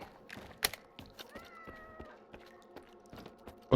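A cat meows in the S.T.A.L.K.E.R. 2: Heart of Chornobyl video game, a short drawn-out call amid clicks and tapping sounds, fairly quiet and near.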